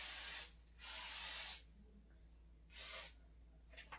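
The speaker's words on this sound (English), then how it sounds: "So now I'm just gonna start by spraying my dish." Three bursts of aerosol cooking spray hissing into a baking dish, each about a second long, with quiet pauses between them.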